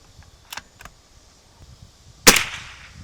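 .22LR rifle shots fired at a target outdoors: two faint distant cracks early on, then one loud, sharp nearby shot with a short ringing tail.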